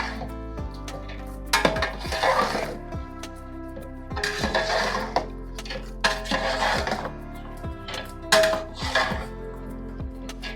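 Mutton biryani masala with fresh coriander and mint leaves is stirred in a pot for Trivandrum-style biryani, giving repeated metal scraping and clinking strokes in irregular bursts, fairly close and clear, with no talking.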